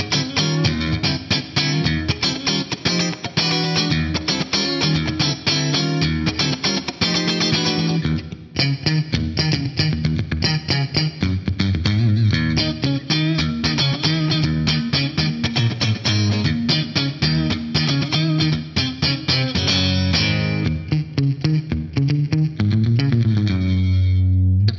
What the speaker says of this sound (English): this one is just the dynamic comp. And again, stock settings, but compression up to 8.